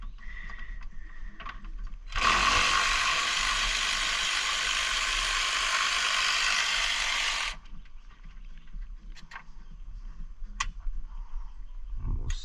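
A ratchet with a 10 mm socket turning radiator bolts on a 1995-2001 Honda CR-V gives a loud, continuous rapid clicking for about five seconds, with faint handling clatter before and after.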